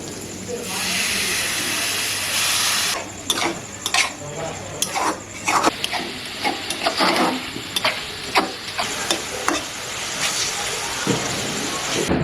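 Spice paste for a country chicken curry sautés in a pan after a splash of water, giving a loud hissing burst of steam at first, then scraping and stirring noises with intermittent sizzling, recorded up close.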